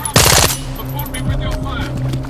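Gunfire in the S.T.A.L.K.E.R. 2 video game comes as a short, loud automatic burst, followed by scattered quieter shots under background game sounds.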